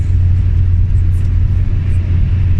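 A car drives along a road on the way to Lublin, heard as a steady, loud low rumble of engine and tyres with no voices.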